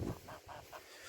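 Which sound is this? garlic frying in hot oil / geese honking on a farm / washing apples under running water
geese honking on a farm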